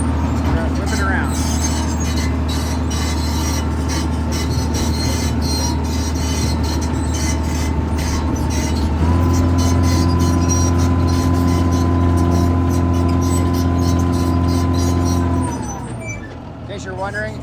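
A used Cat D4C bulldozer's diesel engine drones loud and steady up close as it tracks, the pitch stepping up midway as throttle rises, then dropping away near the end.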